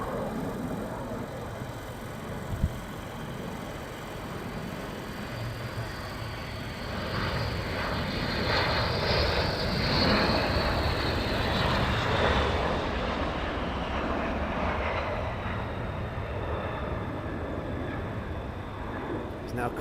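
An aircraft making a low approach at RAF Lakenheath, a distant engine rumble that swells to a broad roar as it passes, then fades, with a faint click early on.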